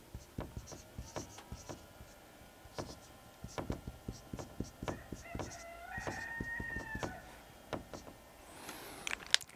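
A rooster crows partway through, set among scattered clucks and sharp tapping sounds in a quiet outdoor setting.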